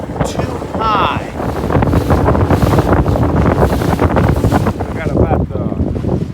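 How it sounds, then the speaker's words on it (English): High wind on Kentucky Lake buffets a boat and the microphone with loud, constant rumbling gusts and choppy water, while someone talks briefly over the roar. "The wind's just too high."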